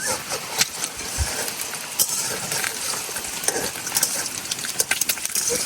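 Gram flour (besan) batter with water being stirred by hand in a bowl for a spicy Bengali pitha, a close, continuous wet swishing with small clinks against the bowl.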